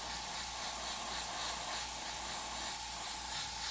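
An airbrush sprays light red paint over a white base, a steady soft hiss of air and paint that holds at an even level from start to finish, close and alone.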